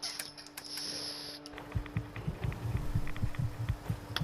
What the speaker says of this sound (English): I don't want to deal with this heartbeat sound.